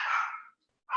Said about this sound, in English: Was that your dog barking?